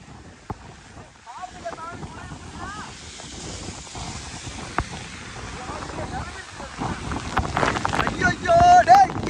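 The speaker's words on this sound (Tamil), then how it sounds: "காத்து அடிக்குதுடா." Strong wind from Cyclone Fengal roars steadily and close, buffeting the microphone, while voices talk excitedly over it.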